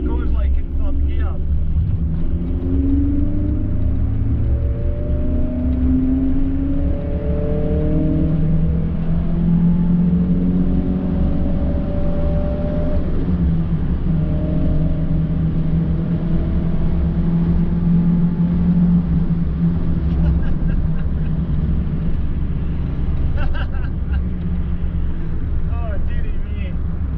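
A Vauxhall Nova being driven in third gear on the way to its MoT, its engine holding a loud, steady droning rumble that rises and falls gently in pitch throughout, close and continuous.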